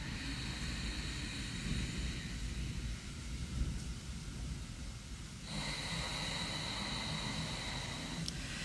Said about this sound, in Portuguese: Percebe que faz um barulho com a traqueia?